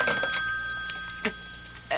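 Old-fashioned telephone bell ringing in a radio mystery drama, several short bursts of ringing spread across the moment, moderately loud over a quiet room.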